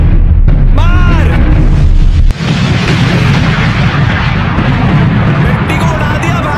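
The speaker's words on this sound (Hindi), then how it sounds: "एंड में मैकडी को ब्लास्ट कर दिया" A loud booming explosion blasts Ronald McDonald at the end of a killer clown horror game, a heavy sustained rumble after a sudden break, with an earlier ringing, warbling tone before it.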